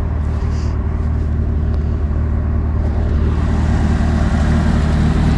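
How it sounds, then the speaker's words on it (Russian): A vehicle drives over wet snow on a taiga lake outing, heard as a loud, steady engine rumble throughout with no talk. "Сегодня едет по сырому снегу."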